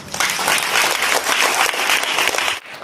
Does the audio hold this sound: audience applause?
yes